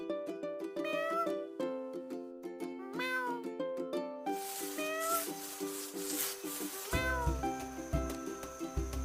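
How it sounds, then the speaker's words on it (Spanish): A domestic cat gives several clear, close meows in a loose sequence, rising and falling in pitch, over light background music. "El primer animal que vamos a conocer es el gato. ¿Cómo hace el gato?"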